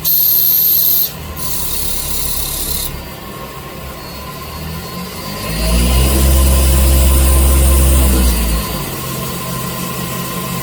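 CNC machine cutting the outside profile of a brass tuba mod-kit part in an instrument workshop, a steady machining rub with a motor hum that swells loudly through the middle of the cut and then eases back to a lower drone.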